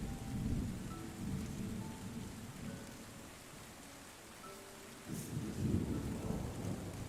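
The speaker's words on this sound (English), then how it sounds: "Wait until the rain has gone before we can finish this off." Steady rain in the video game Terra Nil pours down while low thunder rolls and rumbles in long swells, fading briefly mid-way before a fresh rumble builds, with no voices.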